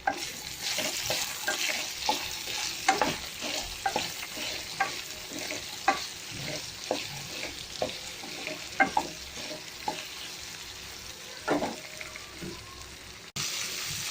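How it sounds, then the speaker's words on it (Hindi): Okra (bhindi) sizzles steadily in a pan over a soft, continuous frying hiss. A spatula scrapes and stirs in repeated clicks and taps throughout, close up and fairly quiet, with no talking. "भिंडी फ्राई करेंगे। चलिए भिंडी हम फ्राई कर लेते हैं।"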